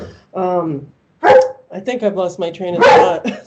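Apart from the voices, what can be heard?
dog barking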